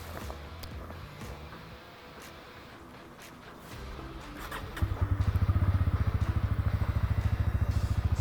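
A Bajaj Pulsar N160 160cc motorcycle starts up after a quiet stretch, then settles into a steady, close, pulsing idle with an even exhaust rhythm, no talking over it.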